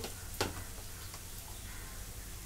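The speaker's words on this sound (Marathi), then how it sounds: "आता ही पण 2 मिनिटं मी चांगली परतून घेते" Masala of onion and garlic spices being sautéed in a pan for an egg curry, a steady soft sizzle with a single sharp tick near the start, no voices.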